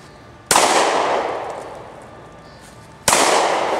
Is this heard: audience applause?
no